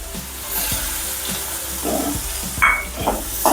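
Chopped onion goes into hot oil already spiced with cumin seeds and asafoetida over a medium flame for a green pigeon pea curry, with bursts of sizzling and stirring clatter rising toward the end, close by, no voices.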